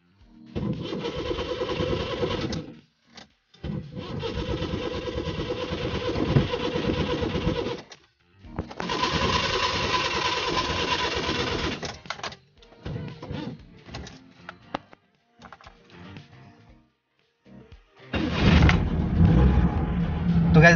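A Maruti 800 car engine, jump-started from a motorcycle battery, cranks repeatedly in long bursts, stalls between attempts, then catches and runs with a steady, loud rumble near the end.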